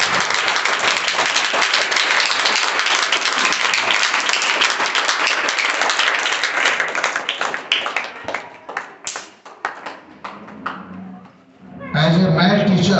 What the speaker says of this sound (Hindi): हमेशा की तरह तालियों से शुरुआत करते हैं